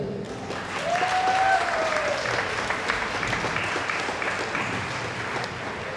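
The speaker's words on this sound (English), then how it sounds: "let's give a big round of applause for all the performers today" Audience at a ukulele summit stage show applauds the performers, a broad, sustained burst of clapping with some cheering and a whistle near the start, steady and fairly loud throughout.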